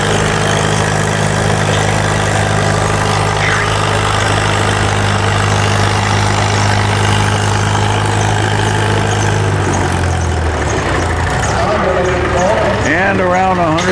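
Cockshutt 30 tractor idling at a county fair tractor pull, a steady low engine drone with a crowd murmuring and a loud announcer talking over it, the engine note shifting near the end.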